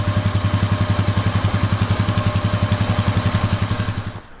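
A Polaris Sportsman 450 H.O. ATV engine runs at a steady, close idle with an even pulsing beat while its synthetic winch rope is tensioned, then the sound cuts off abruptly near the end.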